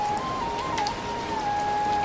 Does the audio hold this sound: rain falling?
yes